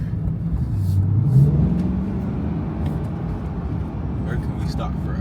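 A Chevrolet Corvette accelerating on a city street, its engine note rising in a steady sweep over roughly a second before settling into a continuous rumble, with road noise and voices mixed in around it.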